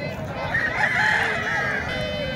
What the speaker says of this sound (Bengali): এই যে বড় বড় মুরগ রয়েছে